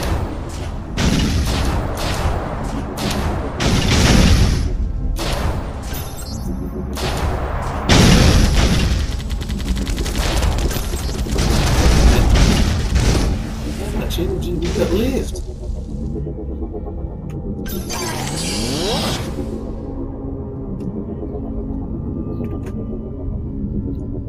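Homing missiles launching and bursting into heavy booming explosions in the online shooter Retrovirus during a deathmatch against bots, with loud repeated blasts followed by quieter whooshing and engine hum.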